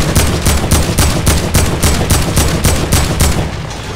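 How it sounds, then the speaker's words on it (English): Rapid automatic gunfire hammering a wall in the video game Fortnite, a loud, steady burst of evenly spaced shots lasting several seconds with no talk over it. "Shoot the wall in front of me."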